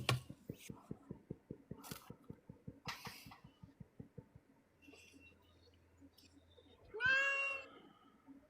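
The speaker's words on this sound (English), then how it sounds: "Kitty cat." A cat gives a short rising meow near the end, fairly close and clear, after a run of rhythmic low thumps and a few soft breathy sounds, in a quiet setting.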